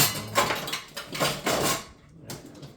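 Kitchen utensils being rummaged through in search of a spatula: a few clattering bursts of metal and plastic shifting around, close and moderately loud, then a brief pause before one more rattle.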